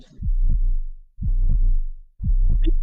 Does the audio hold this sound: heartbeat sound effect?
yes